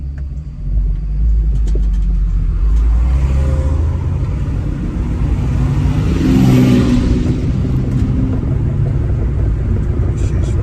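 A car engine with brand-new OEM injectors rumbles loud and close, holding a deep steady drone before a rev swells and fades back, with no voices.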